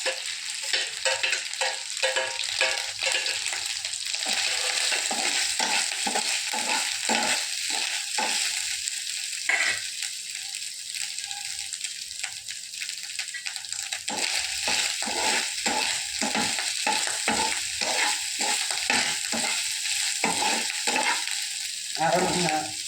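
Dried red chillies, cumin and roasted gram fry in a pan with a continuous sizzle. Repeated scraping strokes of a stirring spoon sound close up, with no talking.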